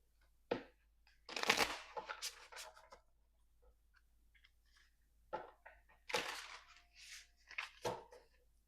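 A tarot deck is shuffled by hand in a few separate bursts of quick, close riffling and flicking, with quiet pauses between them.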